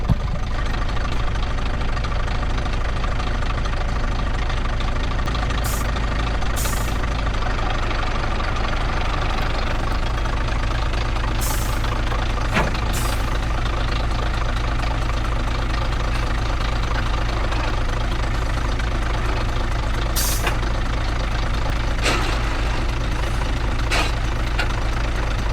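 An old truck engine runs for the first time in four years, a steady loud low rumble with a knocking idle throughout and occasional sharp clicks and clatters.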